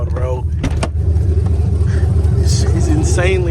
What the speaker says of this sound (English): This car is insanely loud, bro.